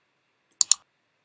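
A couple of sharp computer mouse clicks in quick succession, close and crisp against silence.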